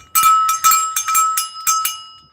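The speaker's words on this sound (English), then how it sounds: "Pretty little bell there." Small vintage bell with a copper-look patina rung by hand at a live auction reveal: bright, glassy clinking strikes, about seven quick rings in a loose rhythm, close and clear with no talk.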